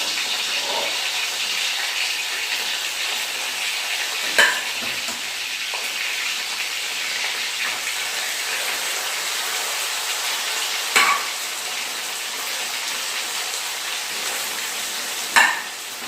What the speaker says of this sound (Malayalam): നമുക്ക് പോത്തിറച്ചി നമുക്കിനി ഫ്രൈ ചെയ്ത് എടുക്കാം